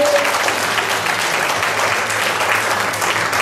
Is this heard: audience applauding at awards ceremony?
yes